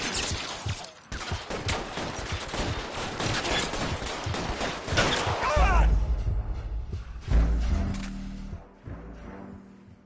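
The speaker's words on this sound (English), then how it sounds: "Shots fired, ops needs help." Rapid gunshots in the video game L.A. Noire, a dense, loud burst of overlapping shots for several seconds, followed by heavier booming impacts.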